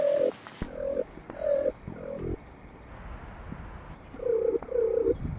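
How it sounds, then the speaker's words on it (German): A series of short, hollow, repeated calls sound in quick bursts, pausing midway before two more follow, fairly close against a quiet background. "Und ich höre auch Vögeln."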